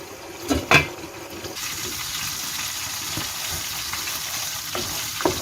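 Iranian Fesenjoon stew cooking in a lidded pot, with a steady soft sizzle and bubble throughout, a couple of louder clatters near the start and faint later knocks.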